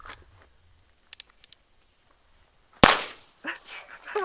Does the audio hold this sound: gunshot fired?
yes